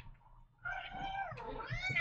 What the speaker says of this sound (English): That's my youngest senior kitty.